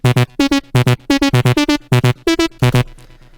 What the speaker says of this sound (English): Without any effects, sounds like this.